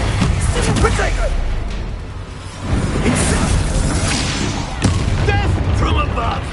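Spell blasts and booming impacts from combat in the video game Hogwarts Legacy, several heavy hits and whooshes spread over a few seconds, loud and close, mixed with voices calling out spell names.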